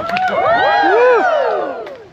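An audience at a Polynesian show screams and cheers in one loud, close burst of many overlapping voices that rises and then fades over about two seconds.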